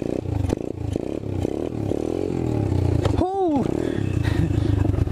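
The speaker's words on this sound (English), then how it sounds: "You're not supposed to just dump the clutch like that." An Apollo 125cc dirt bike engine revs hard as the clutch is dumped for a wheelie, a loud, close, continuous roar with rising and falling pitch and some clatter, with a brief whooping voice partway through.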